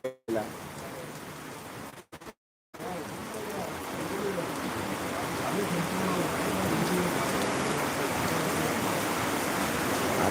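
Steady rain pours down in a dense, even hiss after a couple of brief cutouts at the start.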